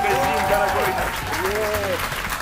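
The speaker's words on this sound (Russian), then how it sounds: "Давайте встретим его бурными аплодисментами." A studio audience bursts into steady, sustained applause on a television show, dense clapping that holds at an even loudness throughout while a voice talks briefly over it.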